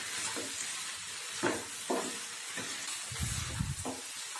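Masala paste of amchur powder and spices stirred and fried in a pan for a mustard-paste mixed vegetable curry, giving a steady close sizzle broken by several scraping stirs, with no talking.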